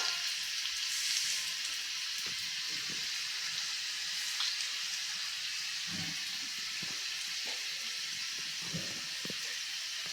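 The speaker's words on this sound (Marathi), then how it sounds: "लसूण ह्या तेलामध्ये छान परतवून घ्यायचं आहे छान सोनेरी रंगावर परतवून घ्यायचं आहे" Chopped garlic fries in oil in a pan, a soft continuous hiss and sizzle with a few light scrapes of a spatula, close but quiet, with no speech.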